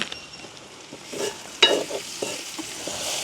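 Chilli and spice powder are stirred into food frying in a pan for a village family meal, a close scraping stir over a soft steady sizzle with a few sharper clanks of the spoon.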